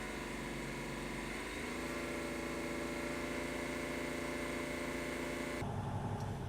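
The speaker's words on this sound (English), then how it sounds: "So I'm going to get the RPMs up to 1400" A truck engine rises from a steady idle to a higher held speed of about 1400 RPM during an air brake compressor test, giving a continuous mechanical hum and rumble with no talk.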